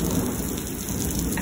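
A heavy thunderstorm in Lubbock, Texas: a low rumble of thunder rolls under dense, steady rain pattering on surfaces, loud and continuous throughout the short stretch.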